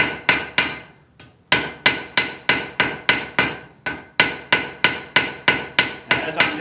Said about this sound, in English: take the old hammer, I'm going to lay her out here. We're going to start to draw this down to a point.